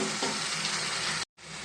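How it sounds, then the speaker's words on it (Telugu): Crushed garlic, cumin and ginger fry in hot oil in a pan for a cucumber and dried shrimp curry, a dense continuous sizzle that drops out briefly before resuming. "ఇప్పుడు దీంట్లో నేను దంచుకున్న వెల్లుల్లిపాయ, జీలకర్ర, అల్లం ఇది కొంచెం పచ్చివాసన పోయేదాకా ఫ్రై చేద్దామండి"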